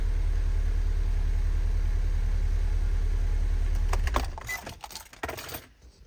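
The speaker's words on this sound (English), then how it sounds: "I'm gonna go ahead and cut the car off." A car engine idles with a steady, loud drone for about four seconds, then shuts off, leaving a few clicks and a jangle of keys as the noise dies away; no one speaks.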